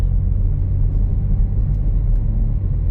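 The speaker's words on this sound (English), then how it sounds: "Alright, we're going on a quick test drive here." Inside a 2022 BMW M4 Competition on a test drive, a deep, steady engine and road rumble stays close and constant, with no talk over it.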